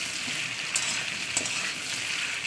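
Banana pieces frying in hot oil give a steady, close crackling sizzle, with a couple of brief sharper pops standing out from the continuous hiss.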